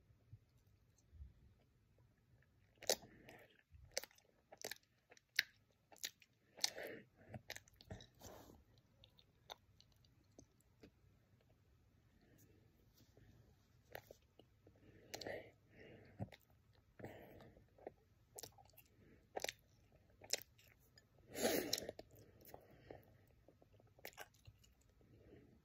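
Close, quiet chewing of candy, with irregular crunches and soft clicks repeating over a long stretch and no talking.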